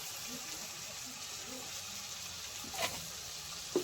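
Spice masala with tomato puree and cumin powder fries in a pan, giving a steady soft sizzle with a couple of brief stirring clinks near the end.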